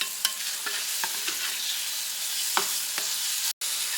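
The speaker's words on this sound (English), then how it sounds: "you want to let this just kind of simmer a little bit to let those flavors meld together." Apples simmer in butter in a pan with a steady close sizzle, punctuated by several soft stirring scrapes and clicks and one brief cutout near the end.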